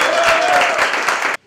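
A crowd at a sport fishing tournament awards ceremony in Rio Claro claps in a brief, dense burst of applause that cuts off abruptly after about a second and a half.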